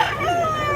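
A rooster crows in a short, loud, close call at Carbon public market where chickens are sold, the drawn-out cry cut off after under a second.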